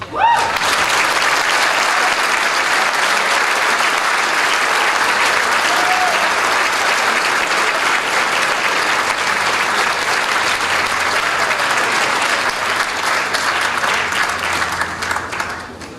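Sustained, loud applause from a large audience fills the hall at the St. Andrew's College Upper School prize day, holding steady throughout with no break.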